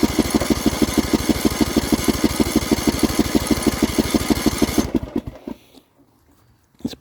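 A Poulan Pro small engine on a test stand runs with a fast, even, close-up pulsing chug for about five seconds, then cuts out and winds down to near silence before a brief final clatter.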